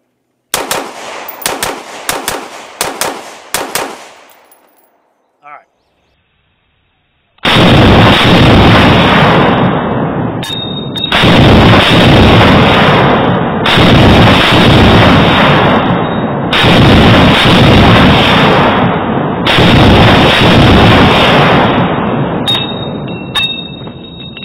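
Rifle gunshots from a recoil and double tap test outdoors: a quick run of sharp close shots, a brief pause, then a long stretch of loud, sustained booming blasts in repeated heavy bursts, very loud and close.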